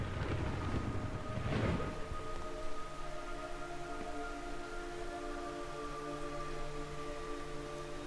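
Steady rain pours throughout a Metal Gear Solid 3 game scene, with a rumble of thunder rolling in near the start and low droning tones sustained underneath.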